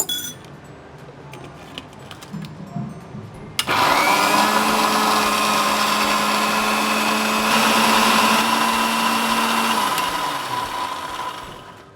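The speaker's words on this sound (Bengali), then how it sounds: "ড্রাগনটা দিয়ে আবারও ব্লেন্ড করে নিব" A blender whirs to life while mixing dragon fruit with mint and sugar for juice. After a quiet start, the loud motor roars up abruptly and runs steadily for several seconds before easing off.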